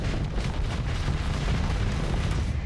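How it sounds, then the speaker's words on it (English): Torpedoes fired in the Starsector space combat game, heavy rumbling booms and explosive bursts rolling continuously with a dense low-end roar. "They've already fired so many torpedoes"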